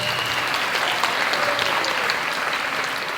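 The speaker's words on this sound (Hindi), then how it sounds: "इनको और सारे बच्चों को भी जोरदार तालियां, जोर से" An audience applauds a school drama presentation on the Jagannath Rath Yatra, a steady, dense wash of clapping from a crowd that holds evenly throughout without a voice over it.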